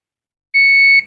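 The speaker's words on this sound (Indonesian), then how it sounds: "menggunakan tang ampar posisi buzzer ya" Clamp meter set to buzzer mode gives a single steady electronic beep during a continuity test on a Sanken water dispenser's bimetal thermostat, loud and clear for about half a second, then cutting off.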